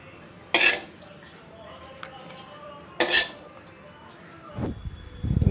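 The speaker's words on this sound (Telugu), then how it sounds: "చల్లారాక ఒక మిక్సీ జార్ తీసుకొని అందులో మిశ్రమాన్ని అంతా వేయాలి." Cooked green chilli mixture for chutney is scraped from a vessel into a mixer jar, giving two sharp metallic clinks of a spoon against steel, close and fairly loud, followed by softer thuds and handling near the end.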